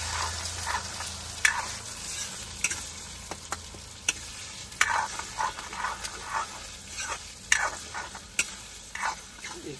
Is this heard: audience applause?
no